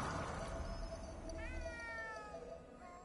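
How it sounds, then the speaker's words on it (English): A cat meows in the video game Ghostwire: Tokyo, a few drawn-out rising and wavering cries over a steady low background hum, moderately close and fairly faint. "Cat in the closet."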